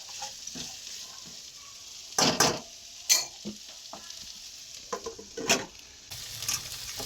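A spoon stirs fresh green corn chevdo in a pan, with a soft steady sizzle underneath and several louder scraping strokes against the metal, close and unaccompanied by talk.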